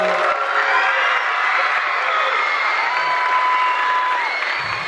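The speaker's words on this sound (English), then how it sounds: "One more round of applause for our 6th grade orchestra." Sustained audience applause and cheering for a sixth-grade school orchestra after a winter concert, loud and steady throughout with a few whoops rising over the clapping.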